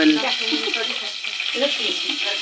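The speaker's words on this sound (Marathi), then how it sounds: "लसूण आणि कडीपत्तो लसणीची आणि कडीपत्त्याची फोडणी पडलेली असा" Garlic and curry leaves sizzling in hot oil for a tempering, a steady bright frying hiss close by that runs the whole way through, with a voice talking under it.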